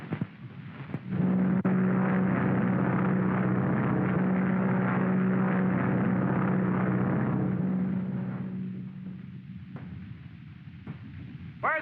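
A propeller airplane drones steadily and loudly overhead for several seconds in a 1939 mystery film, then fades slightly as it passes.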